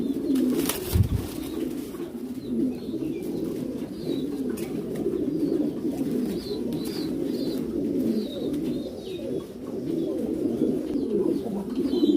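Black European Lahore pigeons coo in a continuous low, throaty murmur with faint higher chirps above it and a single soft thump near the start.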